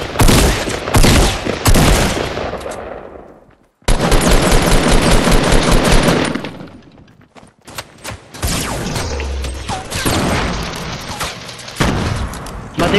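Rapid automatic gunfire and bursts of shots in Fortnite, loud and near, with sustained firing broken by a brief pause and then further volleys and scattered shots.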